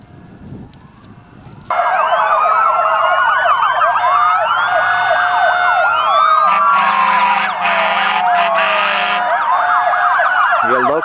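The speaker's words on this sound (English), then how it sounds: "We got local state police, dump trucks, fire engines, ambulances, you name it, you got it." Fire engine and ambulance sirens wail loudly together in a parade alongside state police and dump trucks, several overlapping sweeping tones rising and falling continuously, with a steady horn-like blast joining midway; the sirens start abruptly after a quieter opening.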